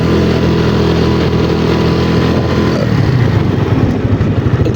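A Yamaha Mio scooter engine runs steadily up close, its loud mid-pitched hum holding even throughout, with a rougher, pulsing putter emerging in the last couple of seconds.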